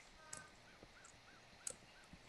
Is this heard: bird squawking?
yes